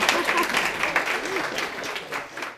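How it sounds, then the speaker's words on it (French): Clapping from a conference audience on World Bipolar Day, a broad steady patter of many hands that slowly thins toward the end, with faint voices murmuring beneath. "On l'applaudit, lui."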